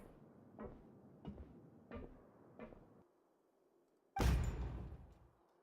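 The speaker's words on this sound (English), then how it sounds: "The door suddenly slams open." A heavy door slams open in the game Genshin Impact, a loud sudden crash that trails off, with four soft, evenly spaced footsteps approaching beforehand.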